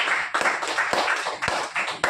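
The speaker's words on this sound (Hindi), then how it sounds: "और एक बार जोरदार तालियां हमारे पीयूष होल्डर साहब के लिए।" Clapping for Piyush Holder at a promotional event, a small group's rhythmic claps in distinct bursts, close and fairly crisp, with no speech over them.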